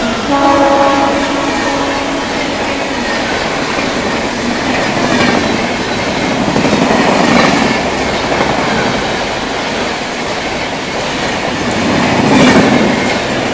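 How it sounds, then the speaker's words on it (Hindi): Mahabodhi Express passing at Prayagraj, a loud, continuous rush of railcars and wheels close by, with rising surges and a sharp horn-like squeal near the end. "ये आ गई अपनी महाबोधि एक्सप्रेस।"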